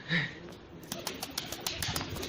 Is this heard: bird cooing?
yes